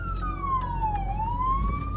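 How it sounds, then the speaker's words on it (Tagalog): A wailing ambulance siren sweeps down and back up in pitch over steady traffic rumble, fairly close and clear. "may tumutunog na ambulansya kaya tumabi muna ang mga kotse"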